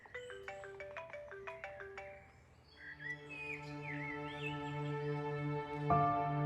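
A phone's ringback plays while a call is placed to mum, a string of quick electronic tone bursts at first, then softer sustained tones and a brief louder knock near the end, with no voices.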